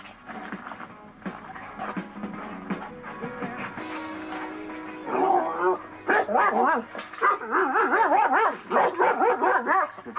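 Several dogs bark and yip in quick bursts, with some whimpering, mixed with people talking nearby.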